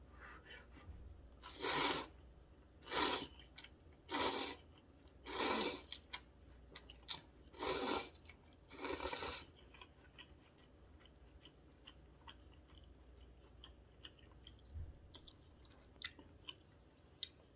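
Someone eats fire chicken jjampong ramen, a spicy noodle soup, with about seven loud, evenly spaced slurps close to the mic, followed by quieter chewing and small clicks.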